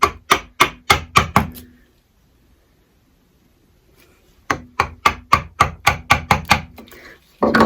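Chisel tapped down with a mallet to cut a wooden mortice by hand: two bursts of about six sharp, evenly spaced knocks each, close and loud, split by a quiet pause.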